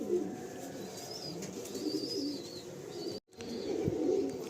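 Pigeons cooing at a pigeon sale, soft repeated coos with light chirps over a murmuring background, with one brief dropout midway.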